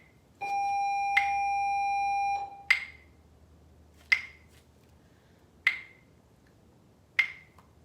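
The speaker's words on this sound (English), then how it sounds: "That bell here at school, that might have gotten you off." A school bell or electronic chime in a classroom rings with a sustained tone for about two seconds, followed by four sharp, evenly spaced pinging strikes that each fade quickly.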